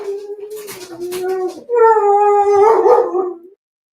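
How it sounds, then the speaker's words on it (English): A pet dog barks a few times, then breaks into a long, loud, wavering howl that rises and falls close to the microphone, ending abruptly. "Sorry, my dog went a little bit crazy there."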